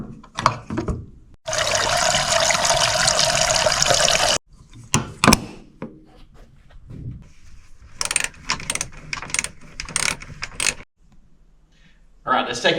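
Gasoline pours into a newly installed car fuel tank on a Hemi-powered vehicle fitted with Holley EFI, a steady rushing flow lasting a few seconds, followed by intermittent clanks and handling noises with people talking.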